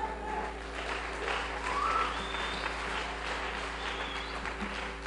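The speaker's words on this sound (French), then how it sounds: "On applaudit encore plus fort" A congregation applauds at a youth church meeting in Brazzaville, a steady dense wash of clapping hands with a low background hum, moderately loud, with no clear speech.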